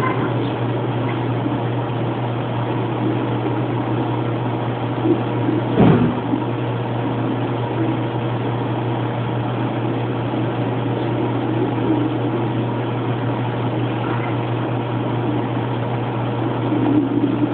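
An Airbus A320-214 at Fukuoka airport sends a steady low jet engine drone as it begins to taxi, heard from a distance through a window with a constant hum and one brief bump, and nobody talking.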